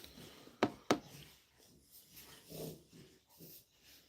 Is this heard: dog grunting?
yes